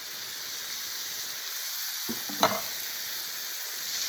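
Italian sausage and drained diced tomatoes simmer in a pan with a soft, steady sizzling hiss, broken midway by a couple of brief utensil clinks. No voices.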